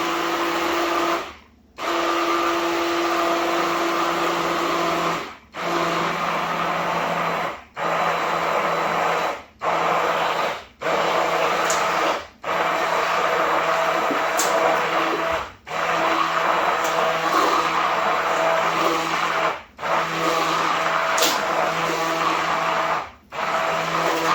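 An appliance blender whirs steadily through a bowl of harissa avocado mayonnaise, running continuously in long bursts broken by about ten brief stops over the span.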